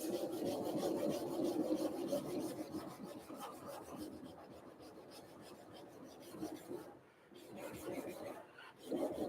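A knife spine rubbed back and forth on a diamond sharpening stone gives a soft, close rasping scrape in quick repeated strokes, faint overall, with a couple of brief pauses near the end.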